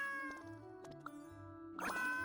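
A pet cat gives a short, faint meow, heard distantly amid quiet room noise and a light tinkle near the end.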